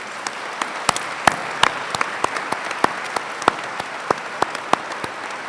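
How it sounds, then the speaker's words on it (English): Graduates at a university ceremony applaud the staff, a crisp, even rain of claps filling the hall for several seconds with sharper individual hand claps standing out near the microphone. "Graduates, would you join me in a huge round of applause to thank them for their efforts?"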